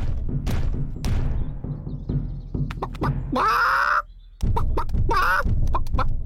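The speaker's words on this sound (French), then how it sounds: "Les poules." Cartoon hens in an animated show cluck and squawk close by in a series of sharp calls, with a couple of drawn-out, louder cries and brief pauses between bursts.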